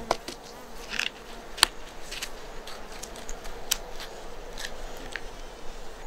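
Japanese honey bees (Apis cerana japonica) buzz around a hive during a traditional honey harvest, a faint steady hum broken by a few sharp clicks and taps nearby.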